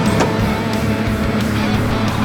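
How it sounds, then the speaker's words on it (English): A big Unimog truck on 25 psi tyres crawls up a steep hill on a rainforest track in Amamoor Rainforest, its engine a loud, steady low drone that holds for the whole stretch with rumbling noise around it. "The big Unimog at 25 psi is crawling his way to the top of the hill, making it look easy"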